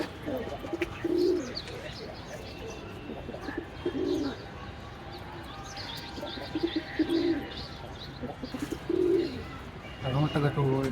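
In a pigeon house, birds give low, rolling coos in distinct bursts every two to three seconds, near and clear, with faint chirps and rustling between them.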